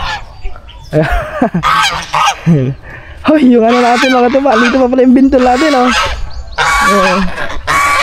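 Geese honk loudly and repeatedly nearby, harsh nasal calls overlapping one another, while someone talks over them.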